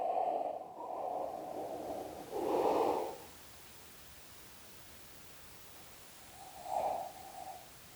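Deep breathing during a yoga pose: a few slow, close inhales and exhales with long quiet gaps between them, soft and airy over a faint hiss.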